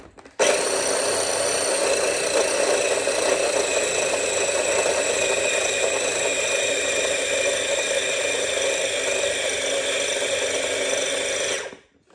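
Food processor blending cookie butter, a loud steady motor whir with rattling running continuously for about eleven seconds before stopping abruptly.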